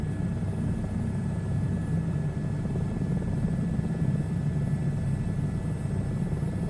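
A helicopter flies through a VR flight simulator game as a steady, loud rotor and engine drone that holds constant throughout, with no talking.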